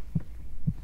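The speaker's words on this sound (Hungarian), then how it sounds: "Szívdobogás hanggal" Two deep, muffled thumps of a heartbeat warning that a killer is approaching in the video game Dead by Daylight, evenly spaced and heavy over a low background rumble.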